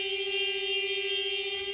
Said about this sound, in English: if the shot clock goes down to 0, the charming buzzer noise goes